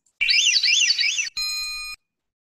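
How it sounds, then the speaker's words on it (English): A thrush's clear, fluty spiraling song phrase of rapidly rising and falling looping notes, followed by a brief sustained ringing tone, heard alone against silence. "Let's listen to just the spiral part."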